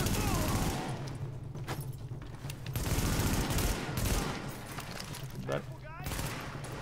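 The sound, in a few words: gunfire in video game The Division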